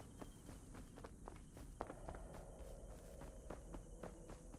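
Steady footsteps of a player character walking on the ground in the Rust survival video game, a continuous run of evenly spaced steps heard close and alone with faint insect-like ambience behind.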